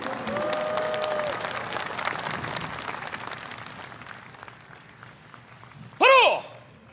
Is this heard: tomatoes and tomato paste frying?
no